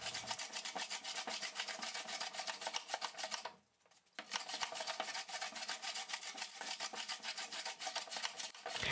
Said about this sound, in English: To flatten the front panel, I first did some cross-grain planing.